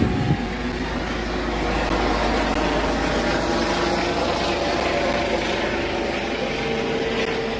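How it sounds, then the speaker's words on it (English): Police helicopter flying overhead during a Division 1 American football game, a steady broadband rotor and engine drone held at an even level throughout, with no talk over it. "Police helicopter overhead."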